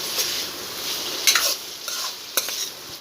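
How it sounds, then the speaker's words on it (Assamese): Chicken pieces with salt being stirred in a hot pan for a curry, a soft steady sizzle with a few scraping clicks of a spoon against the pan, close and alone. "এনেকৈ লৰাই থাকিব, যাতে মাংসটোত নিমখ সানি সকলোটো মিলি যায়।"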